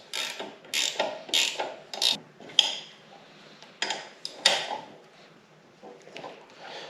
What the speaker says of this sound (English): now we can take our wrench and tighten up these bottom bolts.